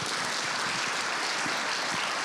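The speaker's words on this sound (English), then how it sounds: "getting applause from the crowd." A crowd at a citywide healthcare forum in Eugene applauds, a faint, steady wash of clapping that runs continuously through the short stretch with no voices over it.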